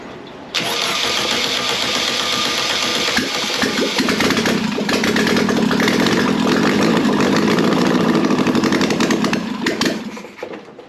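Air-cooled 1600cc VW Beetle engine, considered for a 1974 VW Bus project, fires up and runs on its accelerator pump, a loud close rattling idle that swells as it is revved, then fades near the end; no talking.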